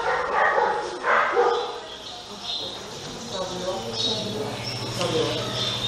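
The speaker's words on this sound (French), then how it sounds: "Les chiens se déchaînent ce matin, depuis le début." Dogs barking outside in the morning, a series of sharp yips and barks at moderate distance, mixed under someone speaking French indoors.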